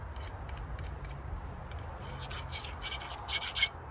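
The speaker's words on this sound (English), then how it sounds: "so I'll do this with my chainsaw file." A chainsaw file rasps against a melted sawmill part, with short, bright scraping strokes that come faster and louder toward the end over a low background hum.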